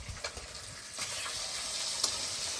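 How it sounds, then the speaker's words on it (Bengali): Spice-coated pieces of catla fish sizzle steadily in hot oil in a pan while being flipped, with a few sharp spatula clicks and scrapes over the continuous frying hiss. "মাছগুলো এবার আমি একটু হালকা করে উল্টে দেব।"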